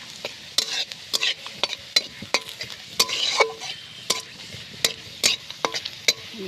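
Chopped garlic and dried red chilli sizzling in oil in a pan while a utensil stirs and scrapes, giving a steady fry hiss broken by regular sharp clinks against the metal.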